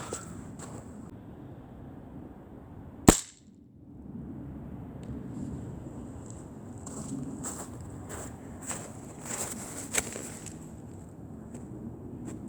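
An air rifle fires once at a caribou hide from about ten feet: a single sharp, close crack, followed by quiet shuffling and faint handling noises.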